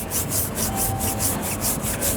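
A short reach brush scrubs a car tyre coated with a bit of gel, making rapid, regular back-and-forth bristle strokes, about four per second, close and fairly loud, with no voices.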